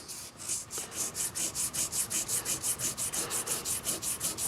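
Sanding guitar frets on a 2004 Crafted in Japan Telecaster by hand with 1000 grit sandpaper: rapid, evenly rhythmic back-and-forth rasping strokes, close and steady, about five per second.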